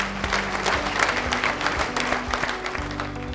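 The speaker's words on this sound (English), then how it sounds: "Give yourself a big round of applause for making it through." A room full of people applauds with steady, dense clapping at a youth baseball team gathering, with a low music or hum bed beneath and no talking over it.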